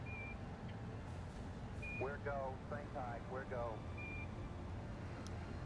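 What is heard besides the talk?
1201 alarm beeping in Apollo 11 video game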